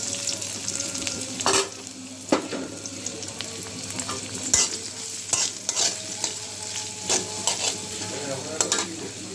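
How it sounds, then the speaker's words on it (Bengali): Sliced onion and green chillies fry in hot oil in a pan, a continuous close sizzle broken by repeated scraping stirs of a spatula, with no voices. "এখন দিয়ে দেবো পেঁয়াজ আর কাঁচামরিচ।"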